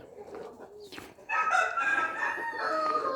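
Chickens cluck and chatter nearby, then a Brahma rooster lets out a loud, drawn-out crow that carries over the continuing clucking.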